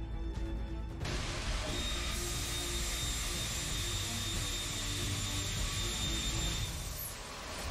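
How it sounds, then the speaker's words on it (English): Rotating detonation engine combustion test, a steady loud roar with a few high whistling tones that holds throughout, broadband and continuous with no pauses. "we can obtain self-driven, rotating detonation combustion process"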